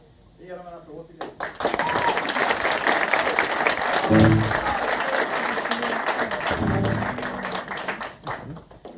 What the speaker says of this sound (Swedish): Vi ger dem en applåd till